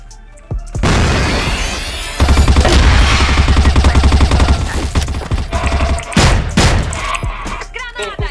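Grenade blast in a multiplayer shooter video game, a loud booming explosion followed by sustained rapid gunfire and further blasts, dense and close, with no talk over it.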